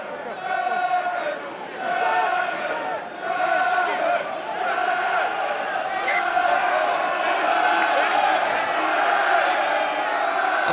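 Rugby crowd at Rodney Parade stadium during a Dragons versus Benetton Pro 14 match, a steady roar of many voices with shouts and swells, close and loud throughout, a commentator talking over it.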